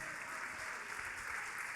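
A church congregation claps to God during a sermon, a brief, faint, even patter of many hands heard from a distance.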